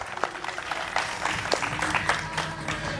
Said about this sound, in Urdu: سب سے پہلے بہت ساری تالیاں